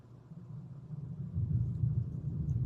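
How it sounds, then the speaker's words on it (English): Loud thunder rolls as a low, swelling rumble indoors, building gradually over a few seconds and heard muffled through walls. "That thunder is loud."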